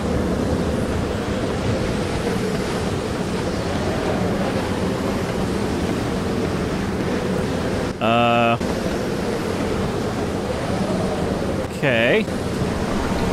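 Strong wind blasting steadily around a huge stationary windmill in the Vivisector video game, a broad continuous roar throughout, with someone briefly speaking once near the end.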